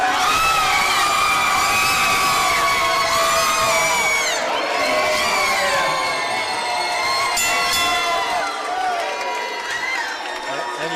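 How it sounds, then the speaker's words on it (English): A boxing crowd after a unanimous decision, a loud sustained roar of mixed jeers, boos and whoops from the arena audience, swelling and sustained without pause. "The boos from the crowd."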